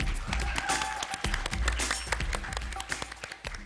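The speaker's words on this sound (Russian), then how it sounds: "а остальные давайте-ка все похлопаем громко" An indoor audience at a Russian apartment-style concert claps together, producing dense, continuous applause throughout, with some voices mixed in.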